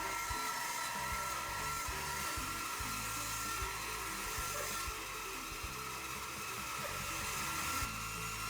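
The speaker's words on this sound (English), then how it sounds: "I moved on to resawing a maple billet for the guitar" A bandsaw fitted with a Guide Pro guide and featherboard extension resaws a maple billet for a guitar, giving a continuous, fairly faint whirring hum with a steady cutting hiss and no talk.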